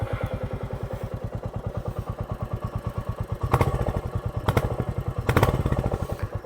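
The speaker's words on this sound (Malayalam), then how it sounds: "ഇതിൻ്റെ എക്സോസ് നോട്ടും കൂടെ കേൾപ്പിച്ചു തരാം." Royal Enfield Classic 350 motorcycle idling nearby, a steady low thumping exhaust beat with the pulses slightly stronger and louder in a few blips toward the end.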